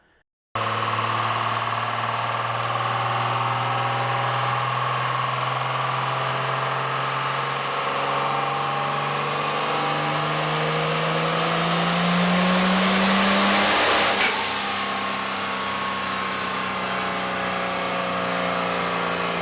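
A 6.1L stroker Cummins diesel on a dyno revs with no load. Its loud, steady drone climbs gradually in pitch, peaks with a rising whine, then falls off sharply.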